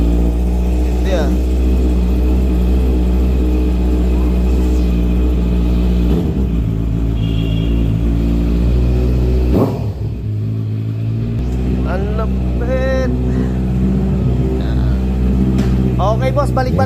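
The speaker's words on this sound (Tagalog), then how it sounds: "Tingnan natin yung start ng motor ni boss" A Toyota Hilux diesel engine, worked on for a heavy EGR valve and oil service, runs with a loud steady rumble and is revved several times, while people talk nearby.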